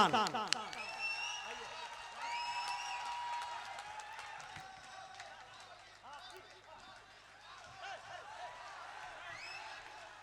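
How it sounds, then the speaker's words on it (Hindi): Mushaira audience applause welcoming a poet to the microphone in Nepal, a brief burst of clapping that fades under a man's speech. "जोरदार तालियों से इस्तकबाल करें"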